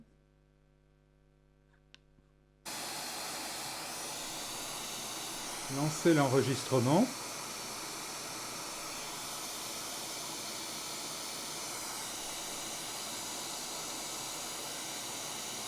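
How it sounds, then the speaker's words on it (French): A white noise test signal for a GoPro MAX camera microphone test begins abruptly after a near-silent stretch and then holds as a steady, loud, broadband hiss, with a brief spoken phrase over it early on. "Lancer le bruit blanc."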